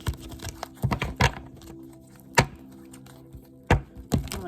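Tarot cards being shuffled by hand, a few sharp clacks and quick riffling bursts at irregular intervals, close and fairly quiet, with near silence between.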